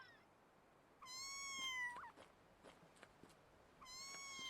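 Kittens meow in the video game Mika and the Witch's Mountain: a long, clear, rising-and-falling meow, then a second meow after a pause, with small clicks and rustles in between.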